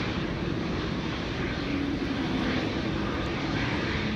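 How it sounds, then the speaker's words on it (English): KLM Boeing 787 Dreamliner airliners roar at Amsterdam Schiphol Airport during stormy, wet conditions, a loud continuous jet engine rumble with wind noise, steady throughout and fairly close. "Two back-to-back KLM Dreamliners over here."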